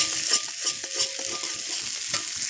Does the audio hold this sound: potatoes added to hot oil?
yes